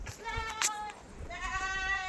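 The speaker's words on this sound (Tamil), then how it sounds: "ஆட்டு குட்டியெல்லாம் காமிக்கிறோம்" Goat kids on a Saudi farm bleat in a few close, wavering calls, one after another, with faint background noise between them.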